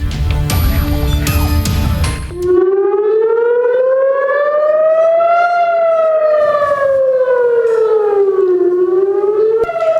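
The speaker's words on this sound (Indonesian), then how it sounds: "Warga Israel berlari menuju tempat perlindungan saat suara sirine memecah kesunyian di kota Tel Aviv Senin malam." A civil defense siren wails over Tel Aviv during a missile attack, a loud rising and falling tone that swells and dips steadily for several seconds after a burst of brief noise at the start, with no talk.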